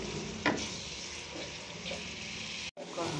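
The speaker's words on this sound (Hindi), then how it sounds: "आपने इसको अब अच्छी तरह से मसाले को भूनना है जब तक कि इसका कच्चापन ख़त्म ना हो जाए।" Spice masala roasting over chicken in a pan, a steady broadband sizzle with a sharp utensil clatter near the start, light stirring scrapes, and a momentary cut-out before the frying resumes.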